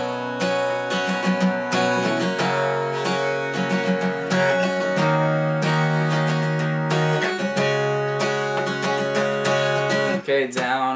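An acoustic guitar strums the chorus pattern of a song, a steady rhythmic down-and-up strum of full chords, close and clear, played alone with no voices.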